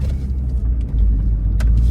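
A cheap VW Golf hatchback with a 62 kW engine accelerating from inside the cabin, a steady loud low rumble that swells slightly partway through, with no talk.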